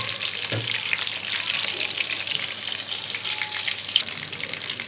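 Chicken 65 deep frying in hot oil, a dense continuous bubbling hiss held close and even, with a brief clink of a utensil, no talking.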